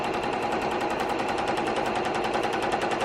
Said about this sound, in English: So on the right hand side, I'm going to now stitch this seam.